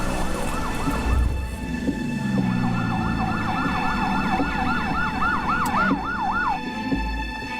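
An ambulance siren wails in a fast, rising-and-falling yelp, moderately near, over a background of road traffic.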